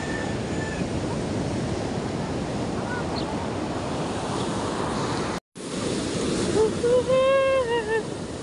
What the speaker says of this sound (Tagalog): Laki alon, hindi makapalaot.